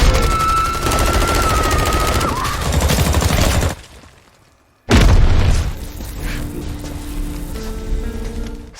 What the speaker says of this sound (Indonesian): Tanke berhasil melemparkan sebuah granat walaupun ia harus tewas akibat ledakan tersebut